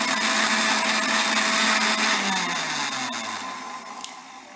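A blender whirs loudly as it mixes a Rooh Afza milkshake of milk, sugar and rose syrup, then winds down with a falling pitch as the motor switches off.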